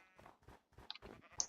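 Sheep bleating in a fantasy video game set in dwarven kingdoms, several short wavering bleats in quick succession, fairly faint, with a louder burst at the end.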